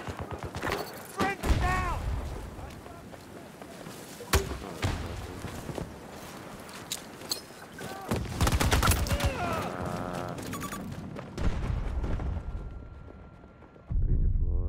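Rapid gunfire in the Battlefield 2042 video game: dense bursts and heavy thumping shots through most of the stretch, with voices shouting over the shooting.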